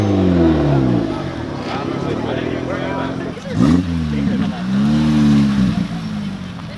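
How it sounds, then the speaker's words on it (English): A Mazda 6 revving at an Arizona car meet: the engine climbs and falls through several rising and dropping sweeps, loud and fairly close, with a voice talking over it. "That guy just revved his Mazda 6."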